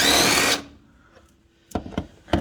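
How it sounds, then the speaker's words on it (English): A pneumatic impact wrench buzzes for a short loud burst while removing the upper shock stud on a drag shock, then falls quiet before a few sharp metallic taps and clunks follow. "So we'll just use this impact to pull it off real quick."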